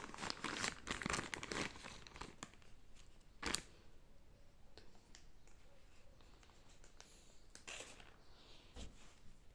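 Sealed plastic packaging holding solar panel cable crinkles and rustles up close, with bursts of crackling and a few sharper crunches, then quieter handling.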